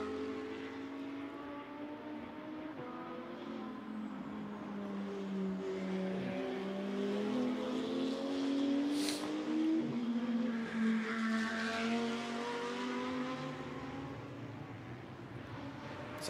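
Endurance race cars, including an Audi, run a circuit through Blanchimont, their engines droning and shifting pitch as they pass, a steady layered roar with rising and falling tones held over the whole stretch.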